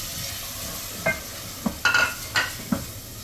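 Masala frying in a pan for a tinda dish, a soft steady sizzle under several distinct spoon scrapes and clinks against the pan.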